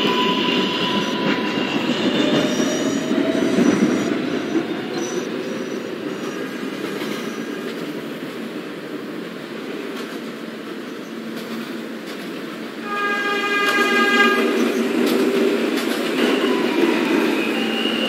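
A subway train rumbles and roars steadily close by, with wheel noise and rising electric motor whine near the end.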